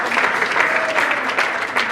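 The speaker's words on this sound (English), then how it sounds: "How about one round of applause for Stanton Sheet Music?" Audience applause fills a hall at an Ohio music educators' jazz band reading session, steady and dense from start to finish with no talking over it.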